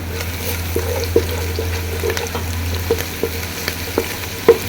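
A spoonful of ginger garlic paste sizzling and frying in a hot pan for a fish curry, with a steady low crackle, plus occasional soft clicks of stirring.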